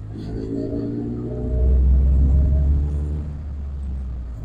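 A 1997 Morgan 4/4 car driving along country roads, a steady low engine rumble that swells louder mid-way as it passes close, then eases back.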